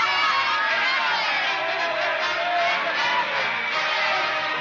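A crowd yells and cheers at a political rally staged as a radio drama effect, a dense, loud, continuous roar of many shouting voices with whoops mixed in.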